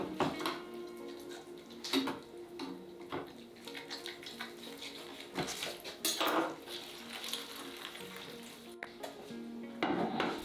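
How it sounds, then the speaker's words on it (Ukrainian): A knife chops lamb meat into smaller pieces for a whole lamb roasted on a spit, giving quiet, irregular knocks and clinks against a board and utensils, with no talking. "нарізаємо м'ясо на менші шматки."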